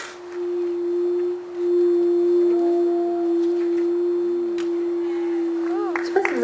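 A captive walrus at the Quebec aquarium gives a long, steady, resonant tone like whale song under water, with slow pitch swoops riding along it and faint crowd murmur behind.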